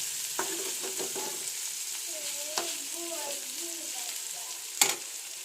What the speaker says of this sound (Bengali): এদিকেও আমি আলু ভাজছি কিন্দুরি আলু ভাজা